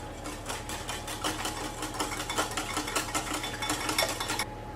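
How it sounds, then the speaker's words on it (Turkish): Two eggs and sugar being whisked in a bowl for a semolina cake batter, a steady rapid clatter of whisk against the bowl running throughout at close range with no talking. "Bir kaseye iki yumurta kırdım. Bir çay bardağı toz şeker ekliyorum. İlk önce bunları bir çırpıyorum."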